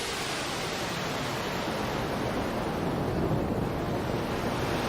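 Wave sounds from an Alt analog soundscape synthesizer, a dense continuous wash of surf-like noise that swells and recedes gently, loud and alone with no speech.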